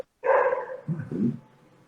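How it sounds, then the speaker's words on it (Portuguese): An angry dog at the neighbours' barks loudly and close, with one sharp bark followed by a rougher double bark, then quiet. "Tem um cão bravo aí latindo."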